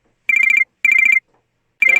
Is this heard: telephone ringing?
yes